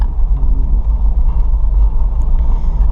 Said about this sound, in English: this is probably a 50-mile-an-hour wind that's going on here